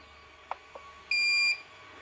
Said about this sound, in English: press the button in and I'll hear a confirmation beep